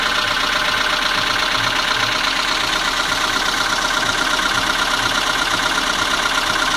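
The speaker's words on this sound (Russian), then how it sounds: "Двигатель работает ровно." A VAZ 21213 engine idling with its valve cover removed, checked for a knock, giving a loud, even mechanical clatter and hum that runs steadily throughout with no talk.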